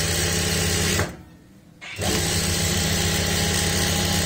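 Electric sewing machine running loud and close while stitching a lining strip onto a blouse, a steady whirring drone that cuts out briefly for about a second before resuming steadily.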